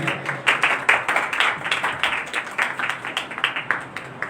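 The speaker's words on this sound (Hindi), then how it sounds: "अपने लिए तालियां बजाएं जोर से" A church congregation claps loudly in a steady, rhythmic beat, the many hands merging into evenly spaced bursts that carry on without pause from start to finish.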